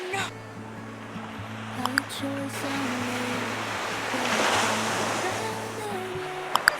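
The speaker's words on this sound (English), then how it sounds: "I want to show you guys the ocean." Ocean waves wash steadily onto a beach in a continuous broad surf roar that swells midway, with music playing over it.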